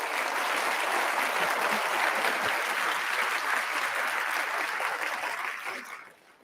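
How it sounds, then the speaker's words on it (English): An audience at an Alabama Humanities Alliance honors event gives the honorees another round of applause, a full, even roar of clapping that holds steady and then fades out near the end. "Give them another round of applause, please."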